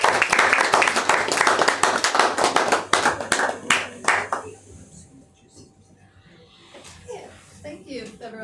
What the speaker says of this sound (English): So another round of applause for her.